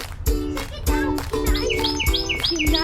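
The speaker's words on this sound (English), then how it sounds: "You hear that bird? He sounds pretty, doesn't he?" A bird sings a bright, repeated chirping phrase nearby, with sharp rhythmic notes and some low thumping underneath.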